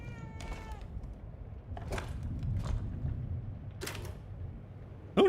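Cat meowing in the video game The Evil Within 2, several short, fairly faint meows spread across a low background rumble, with a sharp click at the very end.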